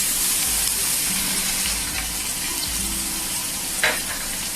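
Crushed garlic and dried red chilies fry in a pan for a home-style restaurant dal fry, giving a steady close sizzle with a brief stirring clatter near the end.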